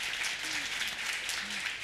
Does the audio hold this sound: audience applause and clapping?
yes